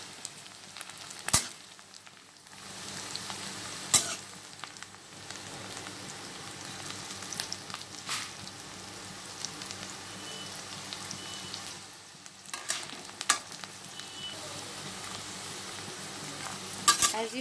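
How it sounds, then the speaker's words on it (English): Onions fry in a pan while being stirred for a potato and tomato bhujia, a steady close sizzle broken by occasional sharp scrapes and taps of the spoon against the pan. "Just for the rawness of the onion to go away."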